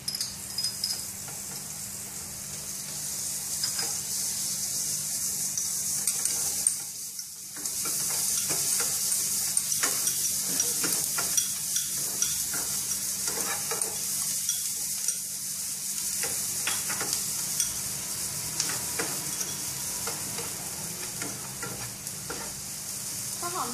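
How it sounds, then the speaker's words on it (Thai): Onions fry in butter in a pan, giving a steady, close sizzle with occasional stirring scrapes throughout; no talking is heard over the cooking. "ใส่หอมลงไปผัดกับเนยนะคะ"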